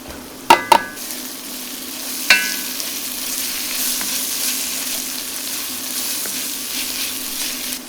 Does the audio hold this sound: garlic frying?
yes